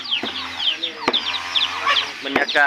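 Chickens clucking on a village farm ahead of being caught for a meal, several birds chattering close by in quick bursts, with a voice speaking briefly among them.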